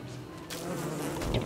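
A bee swarm buzzes in the survival game Don't Starve Together, a faint hum at first, then a steady, fuller drone that carries on to the end.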